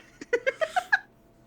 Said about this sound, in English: can pick up the cat from both mics